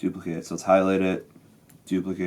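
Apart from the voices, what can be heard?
No everyday noise stands out behind the speech.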